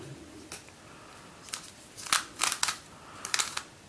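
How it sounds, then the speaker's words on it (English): A QiYi Twisty Skewb puzzle is turned by hand, its mechanism giving a series of short, crisp clicks that come in small clusters, quiet and close, with no talking. "I like the clicking mechanism."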